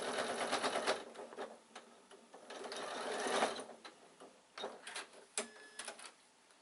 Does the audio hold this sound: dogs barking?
no